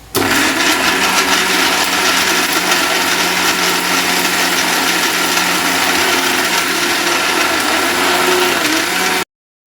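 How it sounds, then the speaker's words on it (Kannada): A mixer grinder jar whirs loudly and steadily, blending masala spices with grated coconut and a little water for vegetable pulao; the motor runs without pause, close and unbroken, for the full stretch. "ಒಂದು ಮಿಕ್ಸಿ ಜಾರ್ ತಗೊಂಡು ರೆಡಿ ಮಾಡಿ ಇಟ್ಕೊಂಡಿರುವಂತಹ ಎಲ್ಲ ಮಸಾಲ ಪದಾರ್ಥನ ಅದಕ್ಕೆ ಹಾಕಿ ಸ್ವಲ್ಪ ನೀರನ್ನು ಕೂಡ ಸೇರಿಸ್ಕೊಂಡು ಚೆನ್ನಾಗಿ ಗ್ರೈಂಡ್ ಮಾಡ್ಕೊಳ್ತಾ ಇದ್ದೀನಿ"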